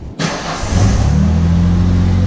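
A New Edge Ford Mustang starting up close by: a brief starter crank, then the engine catches and settles into a loud, steady idle with a deep rumbling hum, and no talking.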